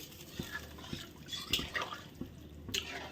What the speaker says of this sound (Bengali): এখন ভালো করে নেড়ে দিই মশলার সঙ্গে ভালো করে জলটার সঙ্গে মিলিয়ে দিই